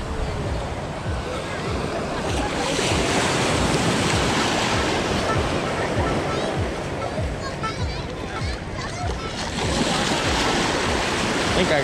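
Ocean surf rolls onto a crowded public beach in a continuous loud wash of breaking waves, mixed with wind and occasional nearby voices.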